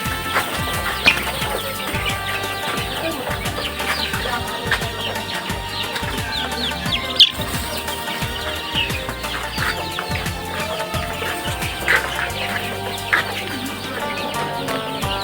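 Layer chickens cluck and squawk continuously in a busy, noisy coop, many birds close by, with occasional louder calls and rustling.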